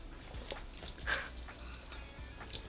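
A pair of pet dogs arriving and whimpering softly, with faint high whines and small yips scattered over a few seconds in a quiet room, close by and fairly low in level.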